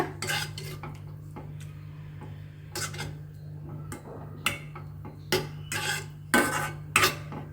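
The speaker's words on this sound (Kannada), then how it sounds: "ಈ ಟೈಮಲ್ಲಿ ಒಂದು ಕಾಲು ಕಪ್ಪು ಮೊಸರನ್ನು ಹಾಕ್ತಾ ಇದ್ದೀನಿ ಒಮ್ಮೆ ಚೆನ್ನಾಗಿ ಮಿಕ್ಸ್ ಮಾಡೋಣ" Curd being stirred into a boiled, slightly cooled mixture in a pot for a traditional Havyaka dish, with intermittent metal spoon scrapes and clinks against the pot, a low steady hum underneath and no talking.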